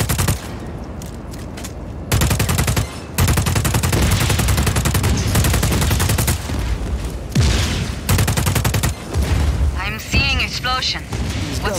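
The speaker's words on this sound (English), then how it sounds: "That's a standard issue Black Hand service rifle." A standard issue Black Hand service rifle with an underbarrel grenade launcher fires in a video game, loud sustained automatic bursts with short pauses and booms, while voices talk intermittently.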